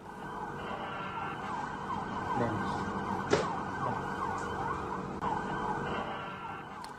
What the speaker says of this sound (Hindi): उत्तर, दक्षिण और मध्य इजराइल में भी सायरन बज रहे हैं।